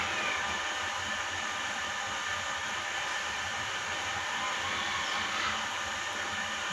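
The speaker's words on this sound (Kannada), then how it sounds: "ಚೆನ್ನಾಗಿ ಕುದಿಯೋದಕ್ಕೆ ಸ್ಟಾರ್ಟ್ ಆಗ್ತಾಯಿದೆ." Village-style kaalu saaru, a lentil curry, boiling in a pot gives a steady, dense hiss and fine bubbling that stays at an even level throughout, with no voices.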